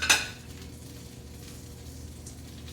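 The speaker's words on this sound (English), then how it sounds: "Ooh, I hear that butter sizzling in there." Butter sizzles softly in a hot pan while a grilled cheese sandwich cooks, opening with a brief clink of a utensil against the pan before a low, steady crackle continues.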